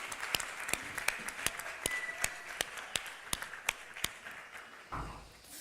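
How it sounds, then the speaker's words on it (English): At a peace conference, an audience gives sparse applause: a thin, quiet run of individual claps at a fairly even pace that stops after a few seconds. "let's have a round of applause for this young lady"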